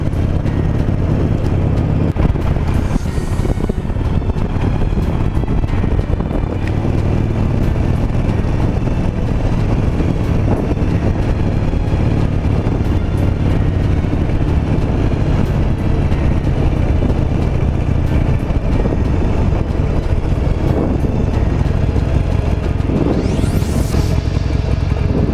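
A Harley-Davidson motorcycle rumbles steadily on a ride, a constant loud low engine drone with road and wind noise and no talking.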